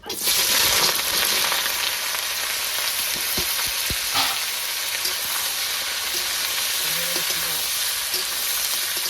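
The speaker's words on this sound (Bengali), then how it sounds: "তেজপাতা শুকনো লঙ্কা পুড়ে গেছে তেলে এখন আমি এঁচড়টা ঢেলে দেবো" Young jackfruit hits hot oil already browned with bay leaf and dried chilli, setting off a loud, dense, continuous sizzle with sharp crackles and a few stirring knocks, close by and without speech.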